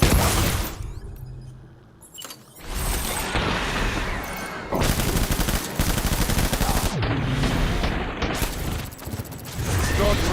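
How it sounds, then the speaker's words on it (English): Gunfire through blood mist in Death Stranding on very hard difficulty: long, loud bursts of rapid shooting with booming impacts and mechanical clatter, broken by short lulls, with no talk over it. "Shooting it through the blood mist is really strong"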